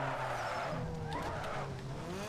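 A modified Nissan Sentra races in Need for Speed Underground 2, its engine droning steadily with shifting pitch while tires squeal and skid through turns, loud and continuous with no talk.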